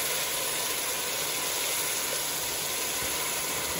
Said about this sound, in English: So I'm going to go ahead and stir in my beef broth.